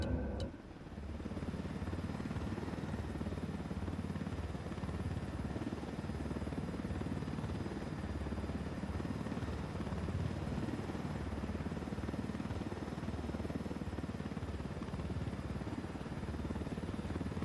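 Helicopter in Tom Clancy's Ghost Recon Wildlands, a constant loud rotor and engine drone that holds steady and close throughout, with no talk over it.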